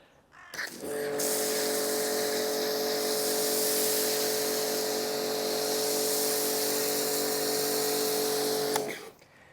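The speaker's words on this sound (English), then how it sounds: "I'm using a Karcher K4 pressure washer, 130 bar" A Karcher K4 pressure washer at 130 bar, fitted with a 1.25 mm orifice foam lance, sprays Lidl Parkside snow foam outdoors. It starts abruptly, holds a loud, steady whining drone with a hissing spray for about eight seconds, then cuts off.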